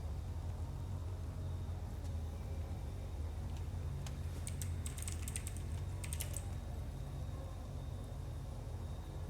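Fingers tap on a computer keyboard during play of the game Lords of the Fallen, with scattered quick keystrokes clustering midway, faint over a steady low hum.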